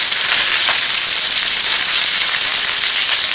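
Curry leaves hit hot oil and crackle in a loud, dense sizzle that holds steady without a break, close at hand.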